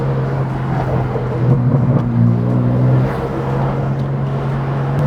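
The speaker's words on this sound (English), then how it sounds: "trying to navigate the M2 through these tiny streets" BMW M2 rolling slowly through narrow back streets of Kyoto, a steady low engine drone heard from inside the car with a brief rise in note midway, no talking.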